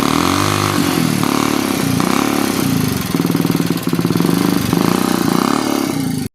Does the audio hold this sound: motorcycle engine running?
yes